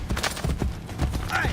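Horse hooves clop in a quick, even rhythm in the video game Assassin's Creed: Brotherhood, fairly close and moderately loud, with a voice briefly mixed in.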